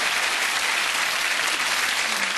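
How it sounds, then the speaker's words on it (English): Loud, dense applause from a theatre audience at a Cinderella pantomime, continuous and even across the short burst, with no voices over it. "Oh, applause."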